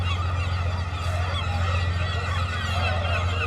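Seabirds nesting in openings in the rocks of a Norwegian coast in Lapland, honking and calling over a steady roar of wind and surf, fairly faint and continuous.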